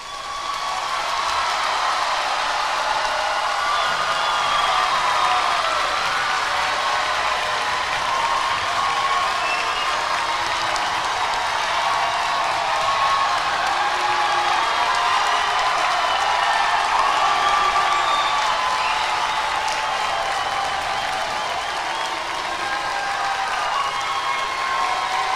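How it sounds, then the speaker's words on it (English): A large audience at the Gallatin High School graduation ceremony applauds and cheers for the seniors, a loud, sustained wash of clapping with scattered whoops throughout, filling the hall without letting up. "Let's give them another round of applause."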